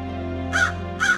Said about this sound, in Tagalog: Sa kalapit na puno ay may isang uwak.